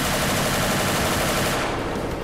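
Dense, sustained automatic gunfire in the video game Ancient Warfare 3 during a WW2 Japanese army bridge fortress defense, loud rapid bursts blending into a continuous roar with no speech.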